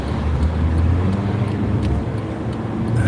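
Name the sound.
truck on the road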